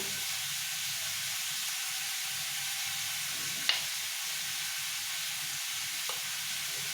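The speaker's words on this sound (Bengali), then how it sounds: "আমগুলো ভাজা হোক" Raw green mango pieces fry in a pan with a steady close sizzle and hiss that runs throughout, broken by one brief sharp clink partway through.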